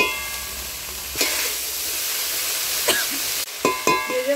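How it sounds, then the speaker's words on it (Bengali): A cumin paste and dry chili spice mix sautés in a pan with a steady close sizzle, broken by a few short stirring scrapes toward the end. "দিয়ে মশলাটা কষিয়ে নেবো"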